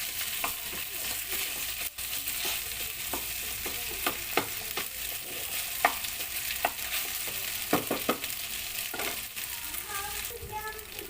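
Beef steak stir-fried in a pan for beef and broccoli sizzles steadily up close, broken by sharp scrapes and clinks of a utensil against the pan; no talking.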